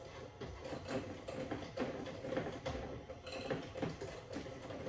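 A hand mixer beats apple cinnamon cake batter with a steady mechanical whirring and gritty rattling, close and moderately loud for the whole stretch.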